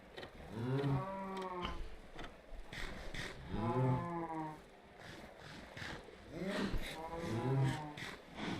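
Cattle mooing in a Minecraft cow farm, three long drawn-out game moos with rising and falling pitch, evenly spaced and fairly close, with no talk over them.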